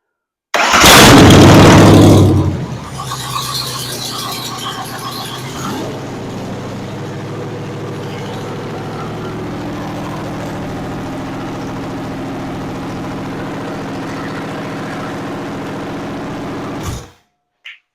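A Ford 302 V8 on a budget rebuild cranks and fires with a loud roaring burst, then settles into a steady, rumbling idle for many seconds before shutting off, close and with no talking.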